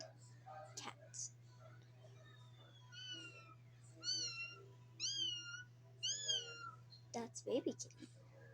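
A person imitates a cat, producing several drawn-out meows in a row with short pauses between them, delivered close and fairly quiet against a low steady hum.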